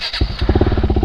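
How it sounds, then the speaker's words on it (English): A KTM motorcycle engine fires up from near silence and settles into a close, loud, rapid rhythmic putter with a quick rev pulse, lumpy and uneven in beat. "when I rev the engine on this thing, which I try not to do too obnoxiously"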